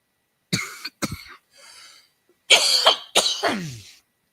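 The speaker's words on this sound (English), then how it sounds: "I seem to be developing a little bit more of a cough right now." Several harsh coughs close up: two sharp single coughs, a softer rasp, then two heavier chesty coughs, with no speech.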